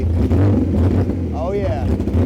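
A BMW E34 535i engine with the exhaust cut off runs rough and revs up briefly, loud and close, with a voice talking over it.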